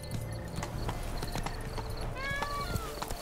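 Hoofbeats of a unicorn mount in The Witcher 3, a steady clip-clop of hooves over busy game ambience, with a brief whinny-like call near the end.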